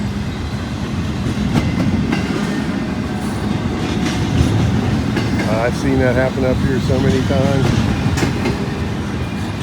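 A train rumbles steadily past on the old B&O line with a continuous low roar, while someone talks over it and a horn-like tone briefly sounds midway.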